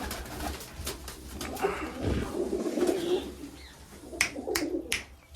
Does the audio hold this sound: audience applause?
no